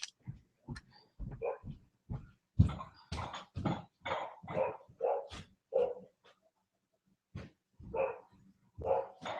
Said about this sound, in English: Now I have to let the dog back in.